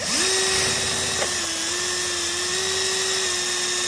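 Steel leather punch being sharpened and polished against a stone, with a steady, continuous grinding whir held close and loud for the whole stretch, with no talk.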